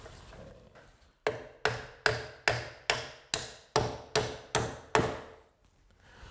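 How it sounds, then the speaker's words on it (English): A nail is hammered at an angle through a new wall's base plate into the existing wall's base plate: about ten sharp, evenly spaced hammer strikes, close and loud, after a few softer taps. "I need to angle the nail in through our base plate into the base plate of the existing wall"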